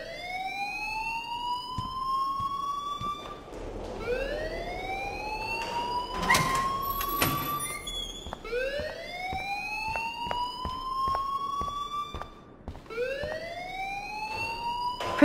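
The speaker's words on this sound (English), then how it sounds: "please turn off that alarm since that's your job" A siren-like fire alarm wails in the video game Life Is Strange, rising in repeated sweeping whoops, loud and continuous, with sharp clicks and knocks scattered through it.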